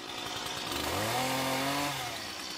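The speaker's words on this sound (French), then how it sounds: "Une tronçonneuse?" A chainsaw revs hard in a Chainsaw Man anime trailer, its engine pitch climbing and sweeping over a couple of seconds, loud and close, with music layered underneath.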